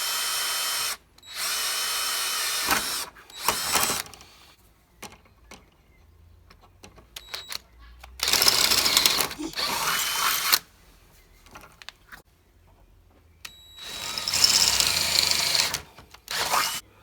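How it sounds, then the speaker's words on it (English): A power drill bores a hole in the center of a wooden hammock stand tripod, running in several loud close bursts separated by quiet pauses and handling noises. "drill a hole right in the center there"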